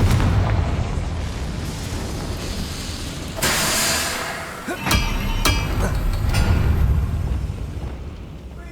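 A Confringo blasting spell goes off in Hogwarts Legacy, a loud booming burst followed by crackling sharp impacts over a constant rumbling game soundscape.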